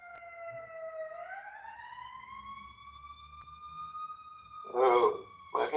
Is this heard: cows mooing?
no